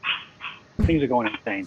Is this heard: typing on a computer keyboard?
no